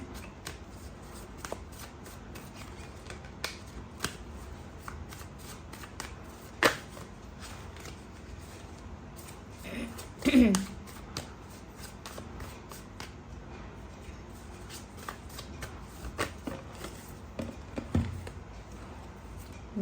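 Tarot cards being shuffled by hand, soft riffling and slapping of the deck in repeated bursts, close and fairly quiet, with no talking.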